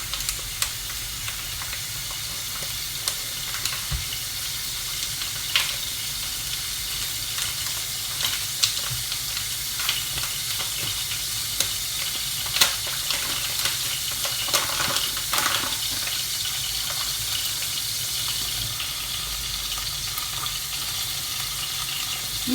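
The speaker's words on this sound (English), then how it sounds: "You're going to make a roux, so you have to constantly stir this." Butter and flour roux sizzling in a hot pan while being stirred constantly, a steady bright frying hiss with occasional scrapes and clicks of the spoon, no talk over it.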